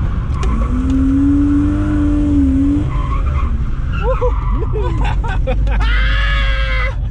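A car drifting flat out with heavy understeer, tires squealing and skidding in long screeching sweeps while the engine revs loudly up close, with brief voices at moments.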